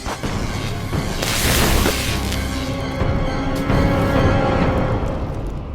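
A computer mainframe explodes in the 1981 film Scanners: a loud, rumbling blast with crackling debris and a sustained roar that rolls on for several seconds, close and powerful.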